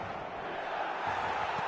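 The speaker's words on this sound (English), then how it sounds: "the crowd level has gone up a notch or 10" Stadium crowd in a football video game, a dense, steady roar of many voices at an even level with no breaks.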